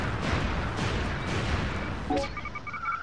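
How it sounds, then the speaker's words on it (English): An explosion in the Buck Bumble video game erupts as a loud, sustained rumbling blast over several seconds, then fades into a short electronic tone at the end. "Watch the explosion go."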